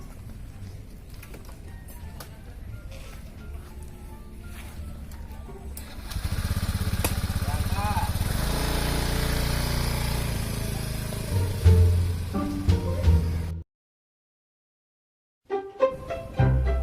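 A motorcycle engine runs steadily at close range and then revs as the bike rides off, with people talking over it before a sudden cut to silence and a few more clatters.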